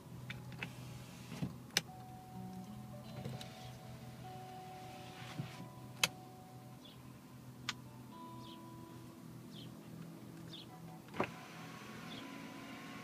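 A soft electric motor whirs briefly as the automatic mirrors of a 2013 Mercedes-Benz E250 Coupé fold, with a few faint clicks and ticks over a quiet interior hum.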